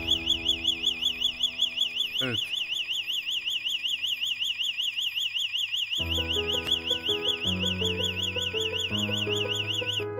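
A Pronet alarm panel siren wails loudly and continuously in a rapid warbling sweep, while a second lower electronic tone pattern starts up partway through and a person speaks briefly.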